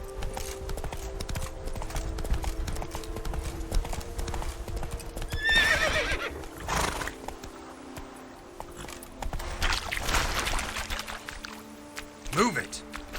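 Horse in The Witcher 3 video game, rhythmic clip-clop hooves throughout with whinnies and snorts breaking in, plus brief game voices over the steady galloping.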